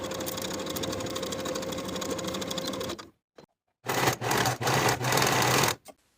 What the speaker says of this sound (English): Then we can sew the side seams and underarm seams on both sides with a 1/2 inch seam allowance